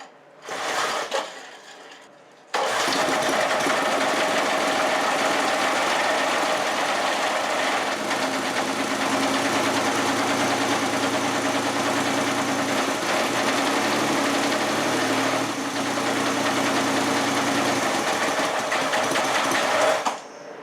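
A small Briggs gasoline engine, a three-cylinder build, sputters briefly, then starts and runs at a steady, buzzy idle for a long stretch before cutting off at the end.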